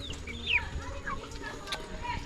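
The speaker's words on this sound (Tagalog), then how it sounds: "Yun o, mga manok natin" Backyard chickens clucking and chirping softly amid a busy outdoor hum, with a voice faintly present in the background.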